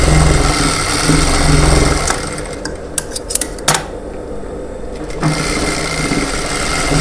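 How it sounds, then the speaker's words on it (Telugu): A sewing machine stitches a lining blouse, whirring steadily and loudly, then pausing briefly with a few clicks and taps before running again, with no talking. "నేను కుట్టి మీకు చూపెడుతున్నాను."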